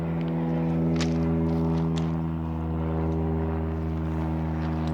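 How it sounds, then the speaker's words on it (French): An airplane or helicopter drones steadily overhead outdoors, a constant low engine hum with strong tonal bands that stays at an even level throughout, while a few faint clicks sound nearby. "chaque fois que je sors, il y a un avion ou un hélicoptère"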